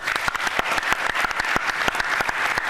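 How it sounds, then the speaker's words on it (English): A town hall audience breaks into a warm round of applause, close and lively, with many hands clapping in a thick, even patter and a few sharper individual claps standing out throughout. "Give him a warm round of applause."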